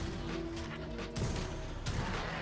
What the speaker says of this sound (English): I try not to use my shotgun